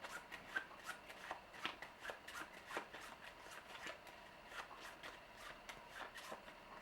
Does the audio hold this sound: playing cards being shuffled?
yes